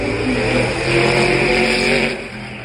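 A loud rally car engine revs hard and steady at the Goodwood Festival of Speed, a sustained high-pitched roar that eases slightly at the end.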